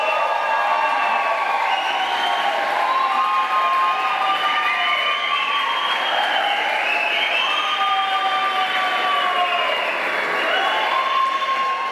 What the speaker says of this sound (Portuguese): todo mundo aplaude